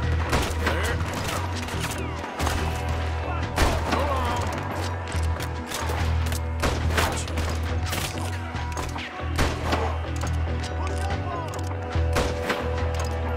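Guns fire in Red Dead Redemption 2 in repeated sharp, loud shots spread across the stretch, some in quick bursts, over a low steady game rumble. No one speaks.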